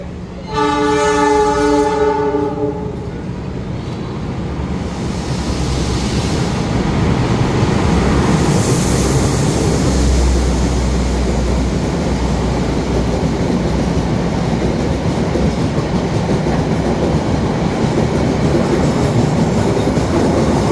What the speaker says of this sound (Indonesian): dari arah sana kereta api Sancaka dari Jogja tujuan Surabaya.